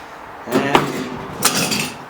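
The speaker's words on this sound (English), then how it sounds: "just get out the hammer, smashing pieces of it." Three sharp hammer blows smash wooden canoe pieces, the second crisp and the third followed by a clattering rattle. The strikes are close, with a short gap between them.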